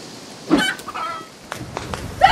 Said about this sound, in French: Vous allez charger les poulets sacrés dans les catapultes et viser la rivière.